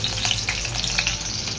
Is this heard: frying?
yes